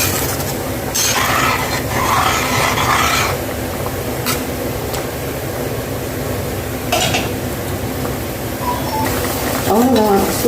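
A pan of eggplant curry bubbles and sizzles steadily throughout, a continuous soft crackling texture, with a voice talking over it at times.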